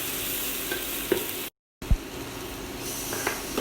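Food sautéing in a pan while it is stirred: a steady close sizzle and hiss, with a brief gap in the sound and a few scraping knocks of the utensil against the pan.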